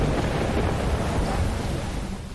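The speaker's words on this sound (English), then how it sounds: "It all begins with a seemingly normal thunderstorm." A seemingly normal thunderstorm rumbles on as a dense, continuous wash of rain and low thunder, loud and broad with no distinct claps, fading slightly at the end.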